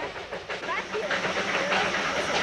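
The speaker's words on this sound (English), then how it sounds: "the day is measured not only by the sun, but by the routine passing of the trains" A train on the Darjeeling Himalayan Railway rumbles past with a broad, continuous hissing roar and faint rhythmic clatter, steady and fairly close, under a voice speaking.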